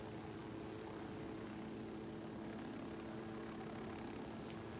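A helicopter in the video game Ghost Recon Wildlands drones with a steady, dense rotor and engine roar that stays constant and fills the whole scene.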